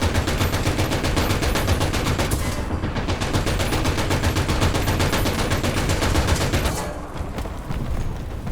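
Rapid, sustained .50 cal machine gun fire in War Thunder from an LVT A(4) amphibious vehicle, loud continuous bursts that run unbroken for most of the stretch with a brief break near the end.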